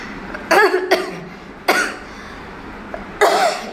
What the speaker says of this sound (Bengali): এডিট করতে করতে এত কাশি হচ্ছে